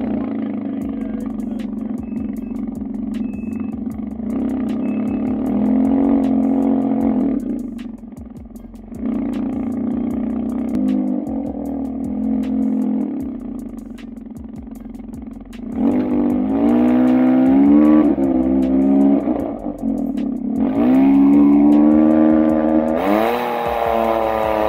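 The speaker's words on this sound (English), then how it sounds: "You've heard it here first, the Mouse Gunner by RLS Exhaust." A Can-Am Ryker three-wheel motorcycle fitted with an RLS Mouse Gunner aftermarket exhaust idles with a deep rumble, then revs up in repeated loud, rising pulls, recorded close with no talking.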